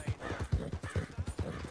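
Horse hooves clip-clop in a steady galloping rhythm while riding in Red Dead Redemption 2, close and fairly loud, with no talk over them.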